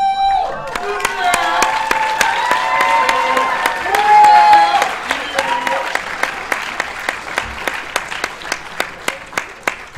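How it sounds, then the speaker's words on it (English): Audience applause and cheering at the CEDA 2014 awards ceremony, a dense sustained roar of many hands with some whoops that thins out into scattered individual claps toward the end. "one last rowdy, raucous round of applause for Eric and all the hard work he's done over the weekend"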